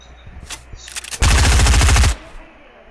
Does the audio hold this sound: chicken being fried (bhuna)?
no